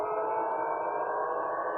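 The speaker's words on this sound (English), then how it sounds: "there is a total blackout and just air sirens are working" An air raid siren wails steadily across the blacked-out city of Belgorod, a loud sustained tone with no break or talking over it.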